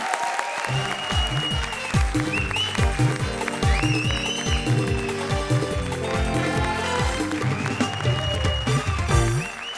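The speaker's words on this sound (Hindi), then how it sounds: "तालियां शेखर जी।" A TV comedy show studio audience applauds in a sustained burst of clapping, mixed with loud rhythmic music and a steady beat.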